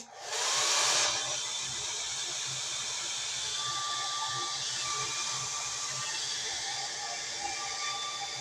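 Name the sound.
hair dryer drying hair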